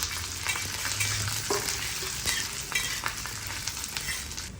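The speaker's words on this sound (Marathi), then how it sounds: "आपण सर्व धने, खसखस, गरम मसाला, अद्रक, लसूण ते भाजून घेऊया।" Coriander seeds, poppy seeds, garam masala, ginger and garlic roast in oil for a black-spice rohu fish curry, giving a close, steady crackling sizzle with frequent clicks of a spoon stirring.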